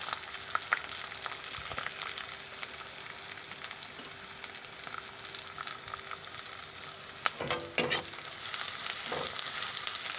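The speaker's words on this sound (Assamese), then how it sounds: "নহৰুখিনি মই ধুনীয়াকৈ ভাজি ল'ম।" Garlic frying with onions in a pan: a soft, continuous sizzle heard close up, with occasional light stirring scrapes and no talking.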